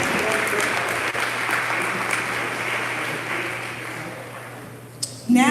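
Sustained audience applause at an awards dinner for young performers, loud and steady, thinning toward the end before a brief noise as it fades.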